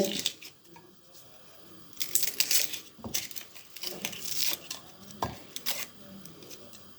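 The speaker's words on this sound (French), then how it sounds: "Donc là on épluche l'oignon." An onion being peeled by hand for a pork-and-lentil dish with Morteau sausage, its dry papery skin crackling and tearing in a series of close, crisp bursts and rustles with brief pauses between.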